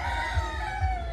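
A rooster crows nearby at a village fiesta cockfight in Sitio Patag, a short, strained call with a couple of low clucks beneath it.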